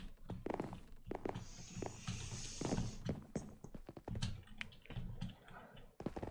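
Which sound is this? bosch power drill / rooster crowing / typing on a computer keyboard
typing on a computer keyboard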